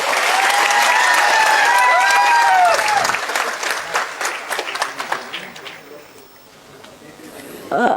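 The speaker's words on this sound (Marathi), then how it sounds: "या माणसासाठी एकदा जोरात टाळ्या वाजवा बरं" Loud crowd applause at a community convention fills the first few seconds, then thins into scattered claps and fades, with voices rising at the end.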